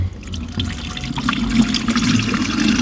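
Water strained out of green buckets of live fish food, a steady close trickle and splash that builds slightly over a few seconds, with no voices.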